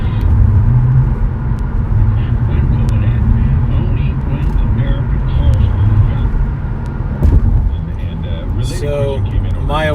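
A car on the road gives a steady low engine rumble and road noise from inside the cabin, with someone talking over it throughout.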